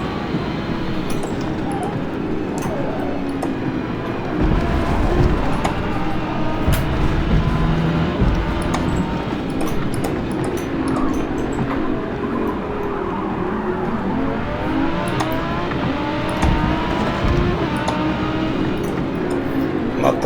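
Race car engine in Forza Motorsport during a sprint race, a continuous loud roar with rising and falling revs and occasional tyre skids, steady and close throughout, with no one talking.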